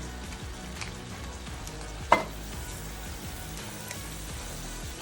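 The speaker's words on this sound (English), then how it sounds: "my skillet is super duper hot. So be careful. That butter can pop on you." Butter sizzles steadily in a very hot skillet for shrimp fried cauliflower rice, a dense, even crackle with one sharp pop partway through.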